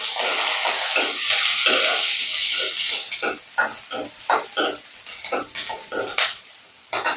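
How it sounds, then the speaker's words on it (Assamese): Onions fry in mustard oil with cumin and nigella seeds, a soft sizzle broken by a regular series of close scraping stir strokes of the spatula against the pan. "এতিয়া মই পিঁয়াজখিনি অকণমান ভাজি ল'ম।"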